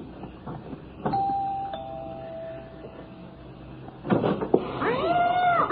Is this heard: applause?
no